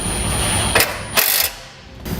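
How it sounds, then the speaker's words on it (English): A ratchet tightening bumper bolts on a 2017 Chevrolet Spark, giving a few short bursts of quick clicking over steady background noise, close by, with no speech. "Now we're going to realign the bumper and tighten our bolts down."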